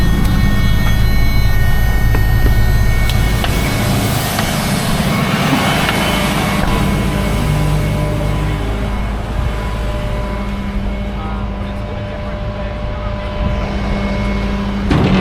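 A car with a CVT pulling forward onto a tow truck bed, a steady engine drone with a rising whine, loud and close, continuing without speech.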